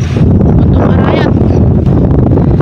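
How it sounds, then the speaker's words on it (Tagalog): Strong wind buffets the microphone steadily in an open chili pepper field, a constant loud low roar and rumble filling the whole moment with no break. "lakas ng hangin"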